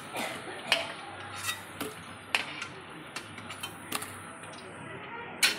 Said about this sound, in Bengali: আলুটাকে তেল ছেঁকে তুলে নিচ্ছি।